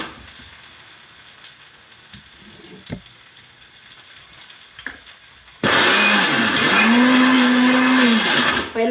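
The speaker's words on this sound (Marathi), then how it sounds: "तसं उलट्या साईडने मिक्सर फिरवलं की लगदा नाही होत." A mixer grinder grinds toor dal while running in reverse, starting abruptly with a loud, steady motor whine and coarse grinding clatter that lasts to the end. Quiet kitchen background comes before it.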